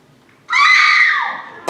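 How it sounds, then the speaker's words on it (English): A woman lets out a single loud, sustained high scream that holds for about a second and then trails off, followed by a sharp burst at the very end, with no talking. "But this was no ordinary scream and gunshot."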